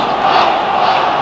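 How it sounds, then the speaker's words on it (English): A football crowd at an FA Cup third-round match between Wrexham and Ipswich Town in 1995 jeers and roars, a loud, dense, sustained wall of voices demanding a player be sent off. "Certainly the crowd wants him off"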